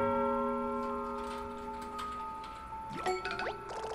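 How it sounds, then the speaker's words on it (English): Grandfather clock ticking in Paper Mario: Color Splash, a sustained chiming tone with steady ticks, then quick sliding boing-like notes near the end, with no voices. "Sound like a grandfather clock"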